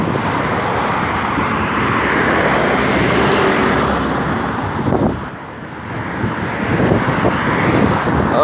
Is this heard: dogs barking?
no